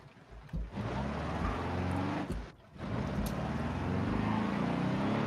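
A green raised trail cross wagon in the BeamNG driving game idles and revs with a steady droning engine tone, briefly dipping twice before settling back into a continuous hum.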